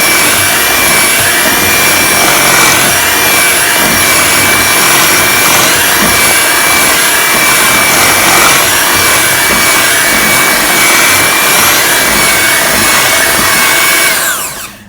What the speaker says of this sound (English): we're going to turn our mixer on low and just mix that together